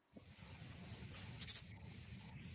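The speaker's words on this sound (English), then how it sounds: "You hear them crickets?" Crickets chirp in a steady, high, continuous trill close by, holding through the whole stretch over a low background rumble with no talk.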